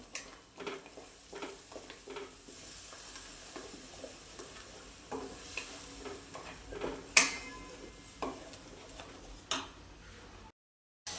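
Spices such as turmeric and Kashmiri red chilli sautéing in a pan over low gas, with soft sizzling and the tick and scrape of a spoon stirring against the pan, fairly quiet.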